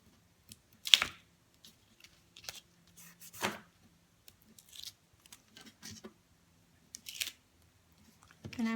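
Backing peeled off double-sided tape for a paper craft card: a sparse series of short, crisp crackling rips and taps, close and fairly quiet, with silence between them and no voices.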